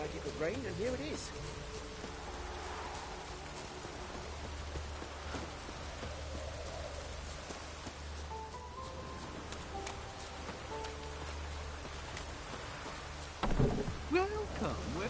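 Rain pours steadily in a PS4 video game, a constant hiss over a low rumbling bed, with a brief louder burst near the end and faint voices in the background.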